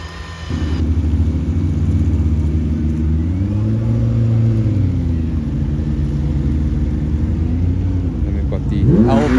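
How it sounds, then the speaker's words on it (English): Supercars such as the Aston Martin Valkyrie driving past at the Goodwood Festival of Speed, a continuous low engine rumble whose pitch rises and falls as a car moves by, ending in a brief rising whine. "It's crazy to see these cars moving and in action."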